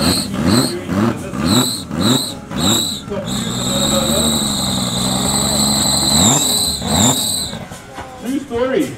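Nissan 300ZX twin turbo engine revving hard at a raceway, rising and falling in repeated loud bursts with a sustained high-pitched whine and squeal through the middle, with voices talking over it.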